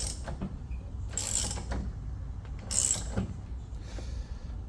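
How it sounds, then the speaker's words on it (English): A ratchet wrench works loose the axle nut on a Club Car Precedent golf cart front wheel hub, with close metallic clicking and a few louder ratcheting bursts. "Now he's going to be removing the axle nut to release the hub."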